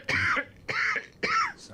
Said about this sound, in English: I told you I cough.